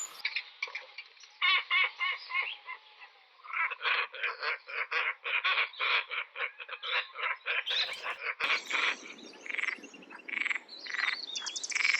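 Straw-necked ibis near Sydney give repeated harsh, croaking calls in rhythmic bursts. The calls are close and clear, with brief pauses and a busier stretch of overlapping calls toward the end.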